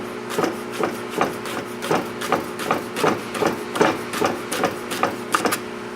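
Knife chopping rolled basil leaves into fine julienne strips on a cutting board, a steady run of about a dozen crisp, even chops close by, with no talking.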